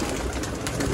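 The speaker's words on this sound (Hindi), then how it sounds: "मोतियों वाले कबूतर।" Sialkoti pearl pigeons, a breeder A-class flock, coo softly and steadily from close by for a brief moment, with a dense low murmur of calls filling the space.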